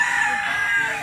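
A large young stag rooster crows briefly and loudly nearby, a sustained strained call with no talking over it.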